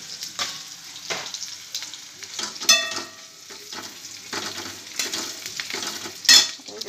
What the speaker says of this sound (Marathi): इकडे घेतलाय कांदा, शेंगदाणे, मिरची, चांगलं भाजून घ्यायचं मैत्रिणींनो